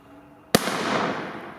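A firecracker goes off with a single sharp, loud bang that decays into a crackling, hissing burst of effects over the next second, heard close up outdoors amid New Year's Eve fireworks.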